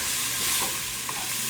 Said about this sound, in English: once these brown up, then we're gonna pull them out